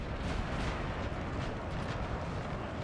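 Artillery barrage in the Napoleon Total War 3 battle at Dresden, with Russian guns firing: a dense, continuous roar of overlapping cannon blasts and rumbling impacts, loud and unbroken, with no voices.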